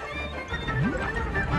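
A horse neighs at a swampy river ford, a loud close whinny with rising and falling pitch sweeps, repeated twice over low background ambience.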